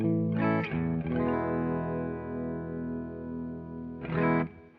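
Clean tone from an Epiphone guitar with P90 pickups played through a Laney LC50 amp: a strummed chord at the start, a long sustained ringing chord, then another strum near the end, moderately quiet with no voices.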